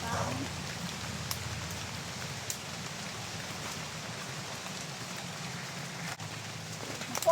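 Steady rain falls outdoors in a forested rural area, a soft, even patter on surfaces throughout with a few faint drops and distant voices.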